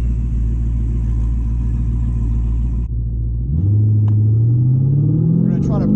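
Twin turbo Lamborghini idling with a deep steady rumble before race launch, then brake boosting as the engine note climbs in a rising, loud drone near the car.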